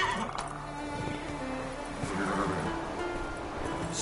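Roach, a horse in the video game The Witcher 3, whinnies over a steady bed of game ambience and faint hoofbeats, moderately loud and continuous, with no talk.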